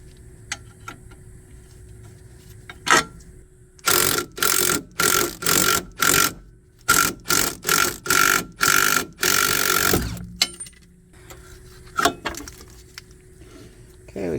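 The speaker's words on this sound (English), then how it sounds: "So you just want to slightly tap it, take it off" A ball joint on a Mazda 3 is lightly tapped out with a run of about a dozen quick, sharp metallic taps in a steady rhythm, close up, with a few isolated knocks before and after.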